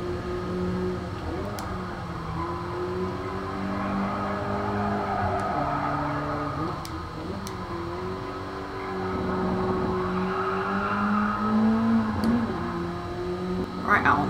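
BMW M3 race cars in Gran Turismo Sport run wide through a corner at the Nurburgring GP circuit, engines droning and shifting pitch continuously at moderate level, with a steady mechanical hum underneath.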